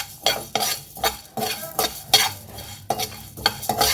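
Coriander seeds roast in a pan for Mangaluru-style chicken, stirred with a metal utensil in a steady rhythm of sharp scraping strokes over a soft sizzle, close and fairly loud.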